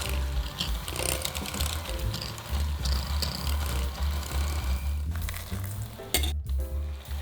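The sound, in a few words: electric mixer mixing churro dough with eggs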